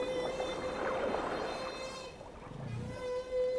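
Whales in Alaskan waters sing, picked up by underwater microphones, long wavering tonal calls and sustained moans at moderate volume against a faint watery hiss.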